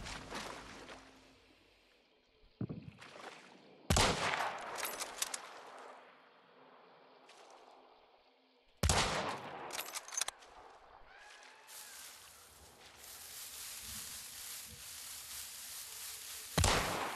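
Sharp double-barrel shotgun blasts from a video game firefight ring out in loud bursts at about four and nine seconds, among other close clattering shots and crackling game noise, with quieter stretches between.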